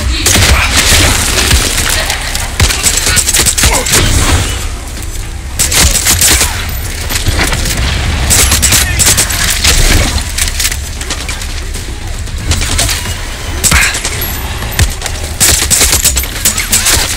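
Sustained gunfire from a found gun in the video game Far Cry 6, loud bursts of rapid shots continuing through most of the stretch with brief pauses between volleys.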